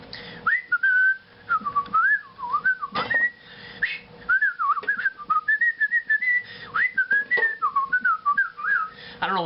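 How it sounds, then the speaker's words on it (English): A person whistles a wandering tune up close in a home kitchen, with clear continuous melodic phrases broken by brief pauses and small clatters. "I don't know why I'm whistling."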